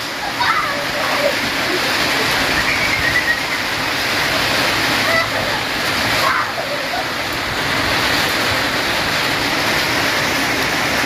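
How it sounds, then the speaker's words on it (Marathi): Heavy evening rain pours down in a Marathi village, a loud, dense, unbroken hiss and splatter that fills the whole stretch, with voices faintly present under it. "जोरात पाऊस पडत आहे"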